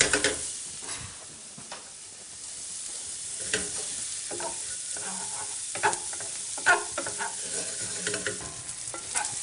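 Whole spices for a curry, cinnamon, bay leaf and cloves, sizzle in hot oil while being stirred, with a steady hiss broken by scraping strokes and occasional louder clicks of the spoon against the pan.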